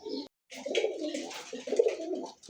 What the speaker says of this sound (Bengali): দেখছেন কবুতরটা ডাক দেখেন